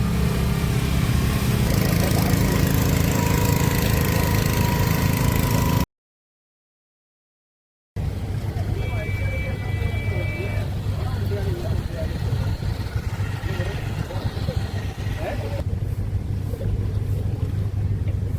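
Steady low engine drone of a houseboat cruising the Alappuzha backwaters, with wind and water noise, running loud and continuous apart from a brief silent gap.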